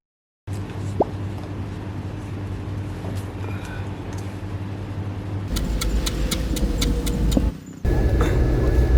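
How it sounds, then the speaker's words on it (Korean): The interior of an intercity bus on the road from Mandalay to Bagan in Myanmar carries a steady engine drone and road rumble, with occasional clicks and rattles from the cabin. "만달레이에서 바가행 버스를 지금 탔습니다"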